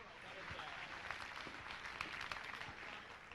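A studio audience on a television show claps for Scott after he takes a bow, with dense, steady applause and scattered sharper claps throughout, though the crowd noise is fairly faint overall.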